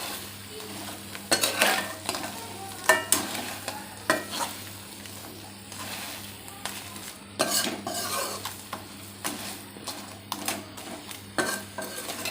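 Crab gravy being stirred and turned in a pan, with repeated spoon scrapes and clatters against the metal over a steady low sizzle, close and busy with no speech.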